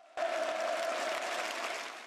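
A theatre audience in a capital-city drama theatre in Pyongyang breaks into a sustained ovation, dense steady clapping that starts abruptly and holds loud for about two seconds before easing slightly.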